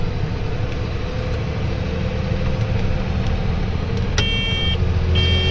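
A Massey Ferguson 390 four-wheel-drive tractor driving past, heard as a steady, close, low engine rumble with a few brief high beeps toward the end.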